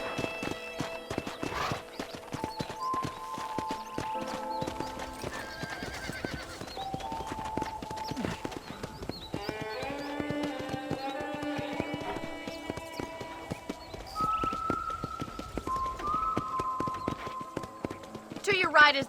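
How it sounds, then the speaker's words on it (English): Horse hooves clip-clop steadily as a rider travels in Red Dead Redemption, with occasional neighs, under in-game dialogue and a background music score. "let's see if you can still ride a horse."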